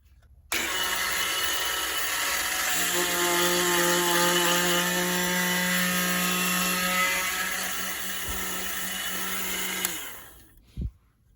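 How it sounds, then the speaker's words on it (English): A micro milling machine drilling a hole through a small plastic mini 4WD part whines steadily at close range, its pitched motor hum holding for several seconds before spinning down, with a brief click at the end. "on the micro milling machine, you can use any tool as long as you can make the hole"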